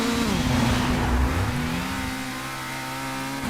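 Race car engine in ToCA Race Driver revving hard, a loud whining drone that dips and climbs through gear changes, then holds a steady high pitch, with no talk.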